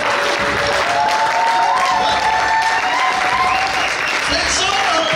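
A church congregation applauding during a sermon at a pastor's seminar, sustained loud clapping with crowd noise and voices over it throughout.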